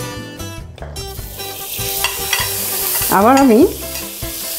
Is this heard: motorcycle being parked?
no